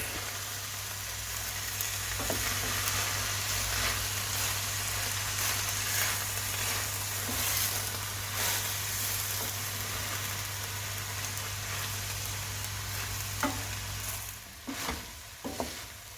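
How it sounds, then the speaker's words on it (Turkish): Vegetables for a green lentil stew sizzle and fry dry, without water, in a pan, with a steady crackling hiss, occasional stirring scrapes and a low constant hum from the stove, fading and clattering near the end. "Bunları 5-10 dakika güzelce kavuruyoruz. Susuz."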